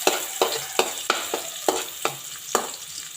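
Garlic sautéing in a pan for Bicolano-style igado, steady sizzling and frying crackle punctuated by about eight rhythmic scraping stir strokes of a utensil against the pan, no voices.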